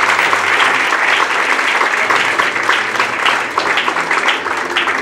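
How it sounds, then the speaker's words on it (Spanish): Wedding guests at a church ceremony break into sustained, dense applause, a loud crowd of clapping hands that carries on steadily throughout. "Démosles un aplauso a estos hermanos."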